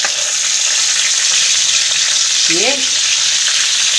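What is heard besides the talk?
green chillies frying in oil on high flame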